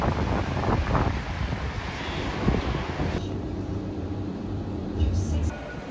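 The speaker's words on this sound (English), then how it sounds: "It's very windy." Strong wind blowing outdoors in a city, buffeting the microphone in gusty bursts with a low roar that drops off partway through, and a voice briefly audible.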